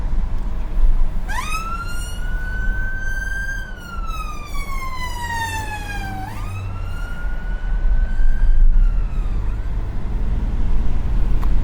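A wailing emergency vehicle siren sweeps up and down in long, loud glides over steady road and engine rumble, heard from a car on a UK motorway approach, sounding close and continuous.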